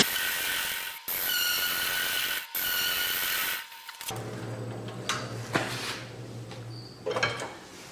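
Cherry wood bowl spinning on a lathe: a sustained bright cutting hiss interrupted by brief pauses, then a steady lower motor hum with scraping, tapping and tool contact sounds nearby.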